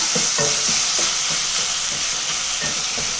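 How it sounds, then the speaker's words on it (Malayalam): Chopped tomato frying with onions in a pan for kappa chicken biryani, a steady bright sizzle under repeated scraping strokes of a spoon stirring it close up, with no voices. "നല്ലോണം ഇളക്കി മിക്സ് ചെയ്യാം."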